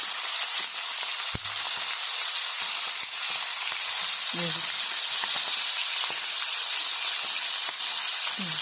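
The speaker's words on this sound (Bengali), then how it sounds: "এই মাছ ভাজা হইতে থাক।" Fish sizzles steadily as it fries in a pan, a bright continuous hiss lasting the whole stretch, with a few faint clinks and brief low sounds in the background.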